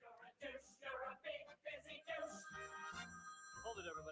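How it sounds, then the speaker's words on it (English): A phone ringtone goes off during a live Wisconsin radio broadcast, sounding as a run of loud, evenly spaced melodic bursts that repeat several times. "Hold it, everybody. That's my phone."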